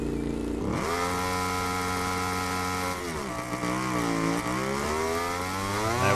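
A motorcycle engine in MotoGP 17 idles in neutral at a race start, then revs hard with rising and falling pitch, loud and close, with no one talking.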